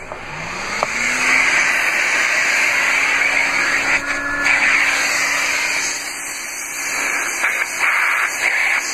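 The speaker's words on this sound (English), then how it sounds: "It's actually a pretty powerful vacuum." A Ridgid-made Stow n' Vac built into a 2017 Chrysler Pacifica runs steadily, a close, loud, broadband motor whir and airflow hiss that spins up at the start and holds nearly constant throughout.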